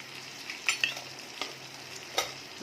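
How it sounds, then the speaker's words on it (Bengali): Ground coriander, cumin and chilli spices frying in a pan for prawn curry, stirred with a spoon: a low sizzle underneath a few sharp scraping and tapping stirs, close and fairly quiet, with no voices. "প্রত্যেকটা মশলাকে ভালোভাবে মিক্স করে নিচ্ছি।"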